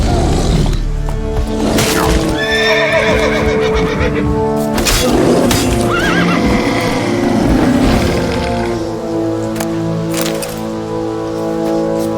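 Roach, the horse in The Witcher 3, lets out loud whinnies and snorts over a game music bed, with hooves faintly clip-clopping, close and prominent.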